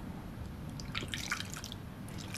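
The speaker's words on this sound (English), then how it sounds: "Then I just started panicking because I was pouring too slow, so I started pouring faster" Liquid poured quickly into a container, heard as quiet splashing trickles and drips at close range, with no voices.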